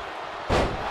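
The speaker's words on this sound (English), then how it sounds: "And slams him with a lot of force." A wrestler is body slammed onto the wrestling ring mat during a match between Tommy Demise and Mathias Thrasher, giving one loud, heavy thud that lands abruptly after a quiet moment and rings on briefly.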